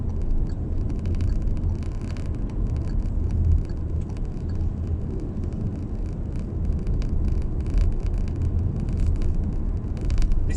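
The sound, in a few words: Proton X50 car accelerating to 70 on the road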